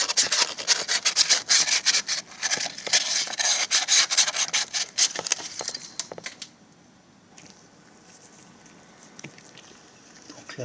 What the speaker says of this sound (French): J'ai essuyé avec un chiffon